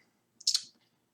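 A single sharp computer mouse click, close and brief, against near silence.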